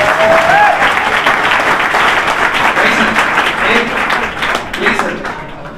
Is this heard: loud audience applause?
yes